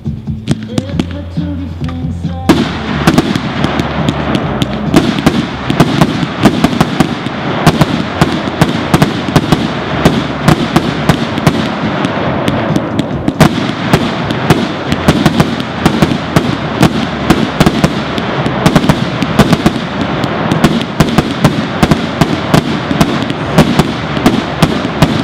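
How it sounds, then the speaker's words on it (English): A 100-shot colorful salute fireworks cake, a 1.3 consumer cake, fires a rapid, relentless string of loud cracking bangs after a brief lull at the start, continuing densely to the end with faint voices underneath. "Next up is the 100-shot colorful salute."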